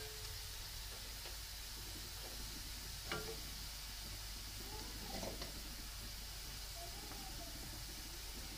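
Ground spices and coriander, salt and turmeric fry with browned onions for an egg curry, a soft continuous sizzle under a few faint spoon scrapes and stirring clinks.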